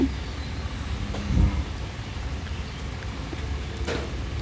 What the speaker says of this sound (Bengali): এখন বৃষ্টি সুর দিয়েছে তা আমি সাথে সাথে ভিডিও করা শুরু করে দিয়েছি